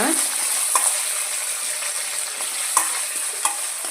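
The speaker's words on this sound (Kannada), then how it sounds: "ಸ್ವಲ್ಪ ಕಡಲೆಬೇಳೆ ಹಾಕ್ಬಿಟ್ಟು ಸ್ವಲ್ಪ ಫ್ರೈ ಮಾಡೋಣ" Chana dal, mustard seeds and cumin fry in a pan for masala dosa potato palya, giving a steady close sizzle broken by a few sharp spoon taps and scrapes as the mixture is stirred.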